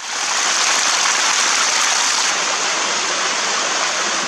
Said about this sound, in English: This is our fresh mountain stream.